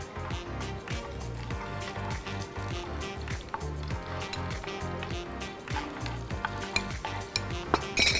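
Curry leaves frying in hot oil in a pan with a steady, loud sizzle and occasional stirring scrapes, close up.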